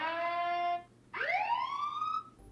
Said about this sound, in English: change the siren sound